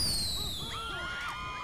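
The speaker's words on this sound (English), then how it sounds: "one firework launcher plus 5 fireworks" Fireworks from a firework launcher in GTA 5 Online on a snowy map, with several whistling rising and falling streaks and crackling bursts at moderate loudness, alone without talk.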